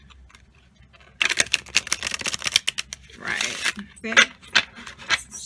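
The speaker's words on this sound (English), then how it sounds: "We'll finish this with a good old shuffle." A tarot deck being shuffled by hand, with a quick run of crisp riffling card flutters followed by softer shuffling bursts. Someone speaks briefly over the cards.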